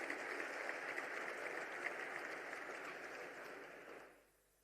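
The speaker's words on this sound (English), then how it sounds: "Can we please have a big round of applause for everybody?" Sustained applause from an audience at a golf league player auction, steady dense clapping for about four seconds before fading out near the end.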